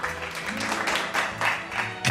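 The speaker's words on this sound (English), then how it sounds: "The jaded applause." Canned applause sound effect opening a podcast, a full burst of crowd clapping with a faint tonal layer underneath, steady and even for a couple of seconds.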